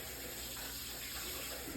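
Running water from a kitchen tap pours steadily over a knife being washed, in a soft, even hiss, quiet and close, with no voices.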